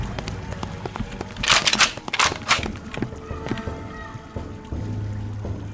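Several sharp gunshots crack in a short cluster, followed by lighter clicks and thumps, from a weapon fired in a video game, with no talk over them.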